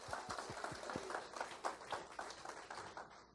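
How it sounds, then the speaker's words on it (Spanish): Applause from a church congregation during a Spanish-language sermon, a quiet, dense patter of clapping with a few sharper claps standing out near the start, steady for a few seconds. "Eso merece un aplauso al Rey Jesús."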